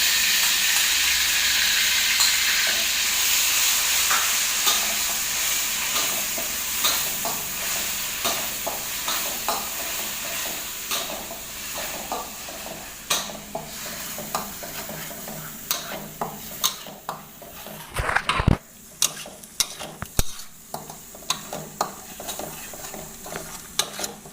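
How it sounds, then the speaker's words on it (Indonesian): Spice paste for shrimp laksa being stir-fried in a hot pan, a continuous close sizzle that fades and gives way to a run of scraping, stirring clatters and knocks near the end. "Kita tumis sampai dia wangi ya."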